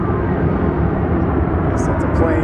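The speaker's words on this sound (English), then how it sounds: "I guess that's a plane going overhead." An airplane passes overhead near Denver International Airport, a steady, broad engine rumble that stays constant and fairly loud throughout.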